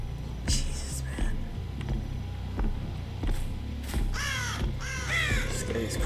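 Crows caw repeatedly in the Dead by Daylight video game, with harsh calls bunched in the second half over a constant low game ambience and rumble, with brief speech present.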